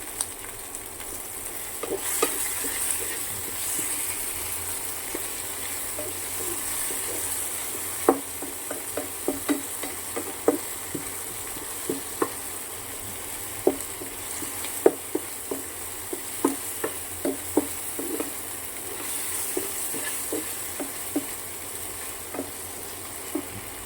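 Tomatoes sauté in a pan with rock salt, giving a steady close sizzle with scattered sharp clicks and scrapes of stirring throughout, and no talking.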